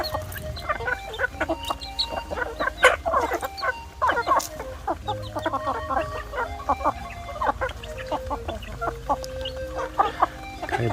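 Several free-range village chickens cluck and chatter continuously nearby, overlapping calls rising and falling with a soft background rumble.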